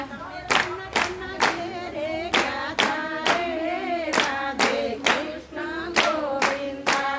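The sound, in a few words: devotees clapping along to devotional song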